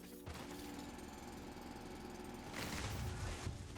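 A drill grinds through ground in the video game Foundry, a loud continuous rattling roar like a jackhammer that swells and roughens toward the end.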